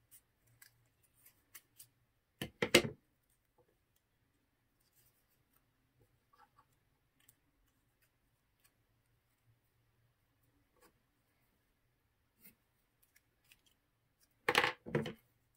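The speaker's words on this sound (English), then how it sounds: "Now we need to cut the width of our pages." Scissors cut paper pages for a miniature dollhouse book, two short close snipping bursts far apart in an otherwise quiet room, with faint small taps between them.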